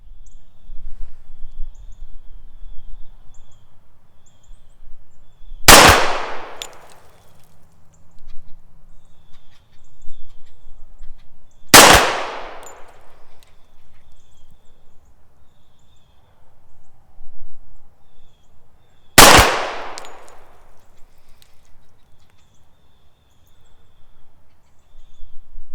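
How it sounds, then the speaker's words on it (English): A Smith & Wesson 745 pistol fires three single shots at a shooting range during a 30-foot accuracy test; each crack is sharp and loud, spaced about six seconds apart with quiet between. "I'm still going to do some shooting, and we'll see how the 745 does"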